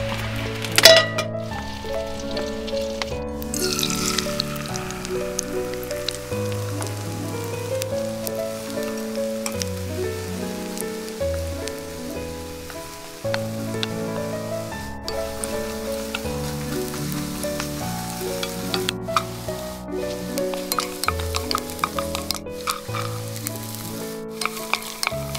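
Fried rice sizzles in a pan during outdoor cooking with a continuous crackling frying hiss, broken now and then by scraping stir strokes, and no one talks.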